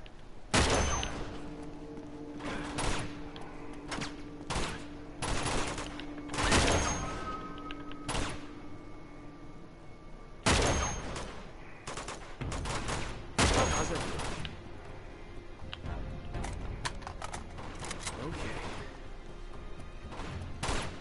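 Bursts of gunfire from the video game Uncharted 2, loud repeated volleys and single shots with sharp impacts and crashes over a steady game soundscape, pausing briefly between clusters.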